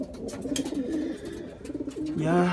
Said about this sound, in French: Ce pigeon il est de Scharlakens et Verticampius